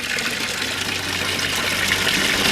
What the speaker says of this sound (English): And we end the day with our beautiful waterfalls flowing once again.